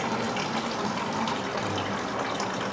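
Water is poured steadily off soaking seeds, a continuous close gushing splash without pauses and no voices.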